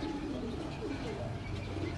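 Pigeons coo softly in low, throaty murmurs against a noisy background, with no one talking.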